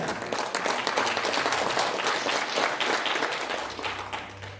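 An audience applauds at a rally in the large conference room of a National Assembly members' building, with a burst of dense, lively clapping that gradually thins out over about four seconds.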